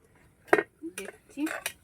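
A metal lid lifted off a cooking pot of simmering potatoes for a Bengali fish curry, giving a few short clanks and scrapes close by, with brief quiet gaps between them.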